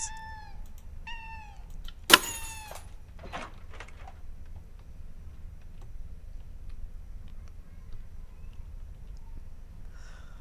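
A cat in the video game Nightfall Whiskers meows a few short times, followed by a sharp click and a breathy snort, then near silence with low hum.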